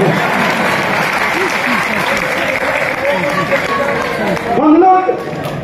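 Loud, sustained applause from a large seminar crowd at a direct-selling training event, dense clapping under cheering voices, swelling briefly near the end.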